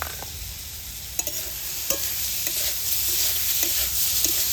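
Jaggery filling stirred in a pan over heat for pitha, a close, continuous sizzle with scraping spoon strokes and a few sharp taps against the pan, steady and fairly loud with no talking.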